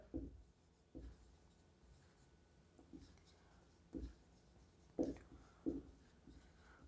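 Marker or chalk scratching on a board during a Class 12 physics lecture on current electricity, several short strokes spaced about a second apart, faint and close, with quiet room tone between them.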